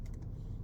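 Quick keystrokes on a computer keyboard while entering a formula in an Excel spreadsheet, a few soft clicks in quick succession over a low steady room hum.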